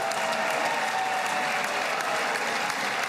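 Dense, continuous clapping from a large audience for a proposed presidential pardon, loud and even throughout with no voices breaking through.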